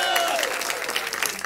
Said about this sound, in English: Give it an applause for that.